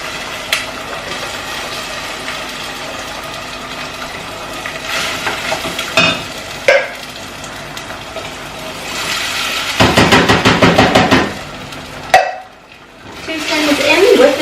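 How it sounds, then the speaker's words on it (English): Two tins of Woolworths lentils tipped with their juice into a hot pan, giving a rising wet sizzle with clattering bursts of liquid and metal, close and loud under a steady background hiss. "lentils from Woolworths, 2 tins, straight in with the juice"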